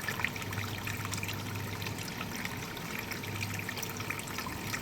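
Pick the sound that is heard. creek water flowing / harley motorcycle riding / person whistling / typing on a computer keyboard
creek water flowing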